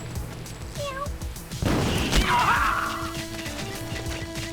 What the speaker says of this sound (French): je balance mon chat